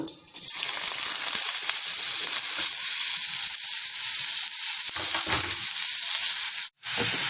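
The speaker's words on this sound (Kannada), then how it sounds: "ಸ್ವಲ್ಪ ಎಣ್ಣೆ ಹಾಕಿ ಸಾಸಿವೆ ಹಾಕಿದ್ದೀನಿ ಅದಕ್ಕೆ ಇದನ್ನು ಹೆಚ್ಕೊಂಡಿರೋ ಇದನ್ನು ಹಾಕೋಣ" Chopped lotus stems hit hot oil with mustard seeds and sizzle loudly, a dense, continuous frying hiss close up that fades briefly near the end before resuming.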